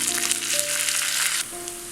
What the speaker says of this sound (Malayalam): ഇനി ഇതിലേക്ക് കുറച്ച് കറിവേപ്പില ഇട്ട് കൊടുക്കാം.